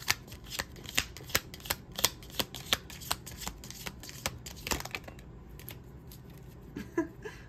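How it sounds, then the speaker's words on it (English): A tarot card drawn from a deck, heard as a steady run of crisp card flicks and soft paper riffles, close and fairly quiet, with no talking. "let me just pull a card"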